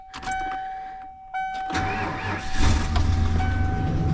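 Ford F350 with a 460 big block V8, running on its front fuel tank, cranks and catches, then settles into a loud, steady idle rumble close by, after a high electric whine at the start.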